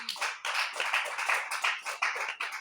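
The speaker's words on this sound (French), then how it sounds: "Applaudis pour lui." Steady rhythmic clapping from a church congregation, close and bright, with pulses roughly every third of a second and no voices.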